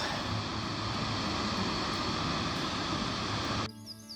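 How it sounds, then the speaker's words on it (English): Alder Creek waterfall in Yosemite pours in a steady, loud broadband rush that cuts off abruptly near the end, leaving quieter ambience. "More of the waterfall."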